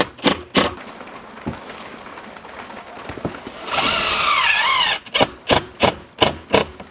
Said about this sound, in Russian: Отмеряем 2 сантиметра от края и закручиваем саморез.